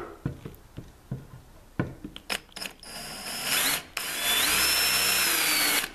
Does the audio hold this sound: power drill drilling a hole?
yes